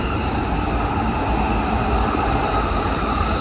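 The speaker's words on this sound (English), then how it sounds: "Oh, I think I hear a train." A train passes close by in Japan at sunset, its steady loud rumble and rail noise filling the whole stretch without pause, no voices over it.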